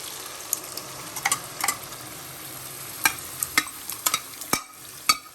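Cooked mutton is added to a Chettinad gravy frying in a pan and stirred, with a soft steady sizzle broken by sharp scraping and clanking of the spoon against the pan.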